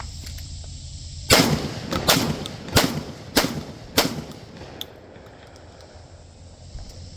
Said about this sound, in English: I'm going to run 5 more rounds through here.